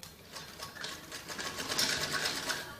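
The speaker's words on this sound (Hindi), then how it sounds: "इसके बाद इसको ऐसे पलट के और इनर के ऊपर को सिलाई लगाएंगे ताकि सिलाई दब जाए ऐसे।" A sewing machine stitches a jacket frock, turning the seam over to sew along the inner lining with a continuous, fast, rhythmic whirring chatter, fairly close and without talk.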